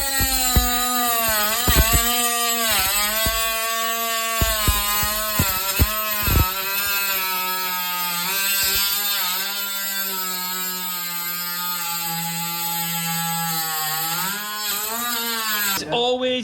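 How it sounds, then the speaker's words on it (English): A Milwaukee M12 Fuel power saw fitted with wood blades cuts through laminate flooring, giving a loud, steady high-pitched motor whine with harmonic overtones that rises and dips as the blade bites, running almost continuously with brief load changes. "this trusty little new tool we bought, the M12 Fuel, with the wooden saw blades, watch this for absolute beastness"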